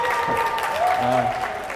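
Crowd at the first Gachon MIC busking event claps loudly and continuously, with a faint tonal hum running through the steady applause.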